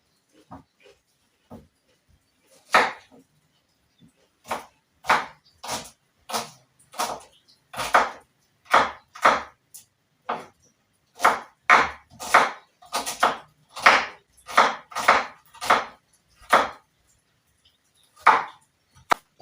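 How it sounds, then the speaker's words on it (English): Onions chopped with a knife, a series of crisp, close cutting strokes in uneven bursts, sometimes quick and sometimes spaced out, with quiet gaps between strokes and no talking. "the next step, we are going to chop onions"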